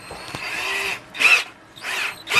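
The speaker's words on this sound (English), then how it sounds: "And now what we're going to do is drill through the two of them." A power drill fitted with a 2 mm bit drills through two stacked parts of a homemade vinyl record cleaner, whirring in three short close bursts with brief pauses between them and no talking.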